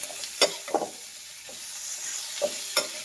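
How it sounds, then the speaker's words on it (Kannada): Capsicum with masala stirred and fried on medium flame, a faint sizzle punctuated by a few brief scrapes of the spoon against the pan. "ಮೀಡಿಯಂ ಫ್ಲೇಮಲ್ಲಿ ಇಟ್ಟು ಮಿಕ್ಸ್ ಮಾಡ್ತಾ ಇರಿ"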